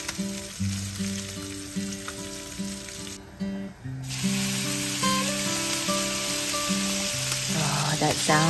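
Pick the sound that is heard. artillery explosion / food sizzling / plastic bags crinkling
food sizzling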